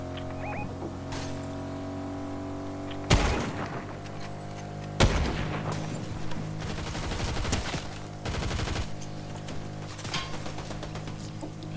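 Gunfire in a Fortnite Zero Build match comes as sharp, loud shot bursts that punctuate steady in-game background sound, with scattered rapid volleys across the stretch.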